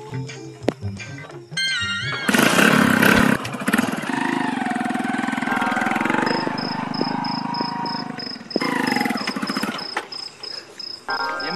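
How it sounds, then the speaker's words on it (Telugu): A motorcycle engine revs and idles up close outdoors during a festival evening, with a loud rising rev that holds and falls back, while crickets chirp steadily and a high tone sounds in the background. "బండి ఇప్పుడు చార్జ్ చేస్తే పండుకున్న వాళ్ళందరూ లేస్తారు"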